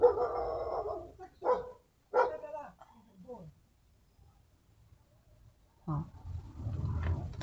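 A dog barks a few times in short, faint bursts at a distance, between stretches of someone speaking quietly in an indoor room. Low background noise fills the pauses.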